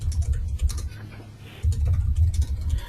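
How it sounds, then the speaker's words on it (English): Typing on a computer keyboard, a steady patter of close clicking keystrokes over a low rumbling background hum. "as I finish typing this last line"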